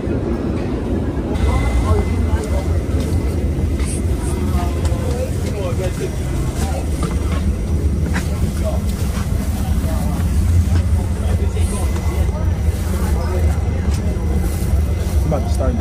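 Steady, loud rumbling ambience in a New York subway station while waiting for a train, with train and machinery noise filling the whole stretch and faint voices in the background.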